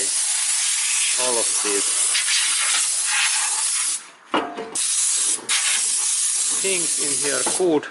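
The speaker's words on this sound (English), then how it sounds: "And here is my compressed air, and then carefully I throw away" Compressed air blasts dirt and particles out of a car's automatic transmission gearbox, a loud, close, continuous hiss with a few short breaks where it cuts off and restarts, while someone talks over it.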